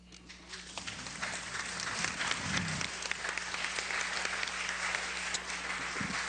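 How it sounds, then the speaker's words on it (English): Steady round of applause from a lecture audience after a speech, continuous and moderately distant, with a low hum underneath and no talk. "let's give him another round of applause."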